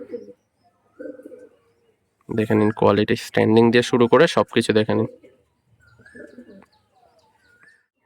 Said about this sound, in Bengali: অরিজিনাল আরশাদ লাইনার পায়রা, টুর্নামেন্ট খেলা পায়রা